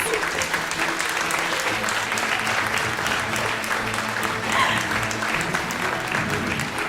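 A large audience at the Slovenska nota 2017 final evening applauds in a dense, steady wash of clapping that runs loud and unbroken throughout, with a faint voice now and then underneath.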